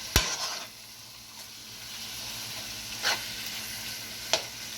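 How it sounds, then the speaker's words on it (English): Ground beef for stuffed bell peppers fries in a pan, a steady close sizzle with a few sharp scrapes and clanks as it is stirred, and no talking. "Remember to constantly stir your beef because you want to make sure that they're not all sticking together."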